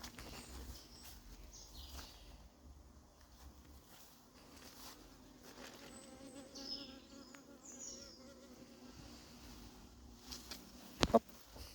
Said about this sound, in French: Attention, frelon.